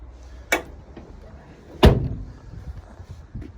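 Rear barn doors of a 2013 Vauxhall Combo 1.3 CDTi LWB van shut with two loud, close slams about a second apart, a fainter knock trailing after.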